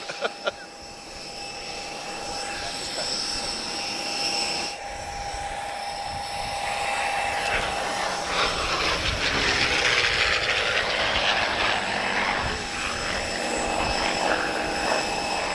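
Spitfire R232, a former South African Air Force warbird, flying at an airshow in Portugal, a steady engine drone that grows rougher and louder toward the end, with a thin high whine and a few sharp knocks at the very start.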